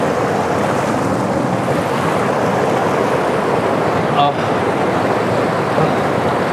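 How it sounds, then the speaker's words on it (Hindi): Mandakini river rushing below a bridge on the Kedarnath trek from Gaurikund, a steady loud broadband roar of flowing water throughout, with one brief sharp chirp near the end. "यहाँ से देखो भाई ठीक नीचे यहाँ पे आपको दिख रही होगी, तो ये है मंदाकिनी नदी"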